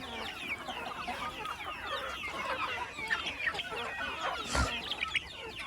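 Kadaknath, Rhode Island Red and local chickens on a poultry farm cluck and chatter continuously in a dense flock, with one louder sharp knock near the end.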